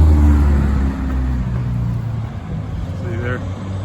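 Road traffic rumbles past on a small road used by big trucks, a loud low engine drone that is strongest at the start and then fades to a steady rumble as someone talks over it.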